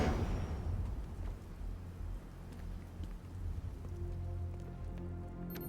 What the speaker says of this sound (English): You hear the rain as well. That's heavy.